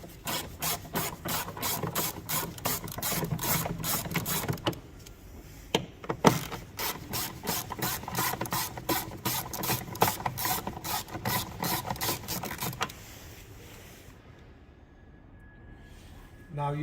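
A hand ratchet working on the bolts of a MINI R50/R53 front door, giving steady rapid clicking strokes for several seconds, a brief pause, another long run of clicks, then quiet.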